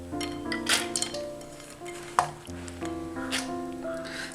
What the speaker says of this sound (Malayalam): ഇനി ഇത് നമുക്ക് മിക്സിയുടെ ജാറിലേക്ക് മാറ്റാം.